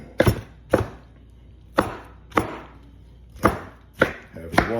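An old pastry knife from Brussels chopping cucumber on a board, seven sharp distinct knife strikes spaced irregularly about half a second to a second apart, close and clear.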